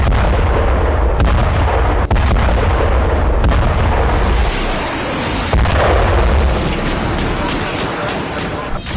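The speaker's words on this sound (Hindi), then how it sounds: "חיל האוויר תוקף באופן נרחב מטרות תת-קרקע ותשתיות טרור." Airstrikes and explosions in Gaza: a dense, continuous rumble of blasts with sharp, booming impacts at intervals, loud and sustained throughout.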